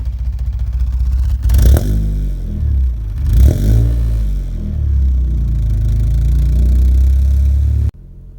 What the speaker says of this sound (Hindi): क्या गाड़ी फर्स्ट टाइम स्टार्ट हो गई है